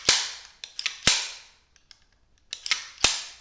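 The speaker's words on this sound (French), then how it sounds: "Donc quand on arme la carabine" Mechanical clicks and clacks from cocking and working the action of a Unique X51bis .22 LR rifle, two sharp close snaps each followed by smaller metallic clicks, with a brief quiet pause between.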